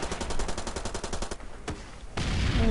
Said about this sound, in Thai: มันยิงออกทีละ3นัด